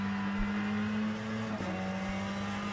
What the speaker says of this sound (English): that engine noise in the Ferrari, it's not very forgiving, is it?